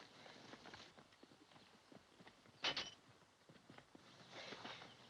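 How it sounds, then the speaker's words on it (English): Horses walk in an old western frontier setting, their hooves clip-clopping in a soft, irregular patter at some distance, with one sharper knock standing out midway. "Those are our horses."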